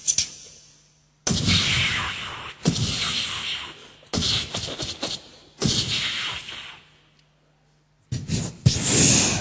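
A voice imitates repeating Winchester rifle shots: several sharp, explosive bursts, each followed by a short hissing tail, separated by brief silences.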